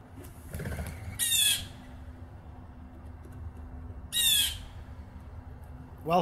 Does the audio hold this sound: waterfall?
no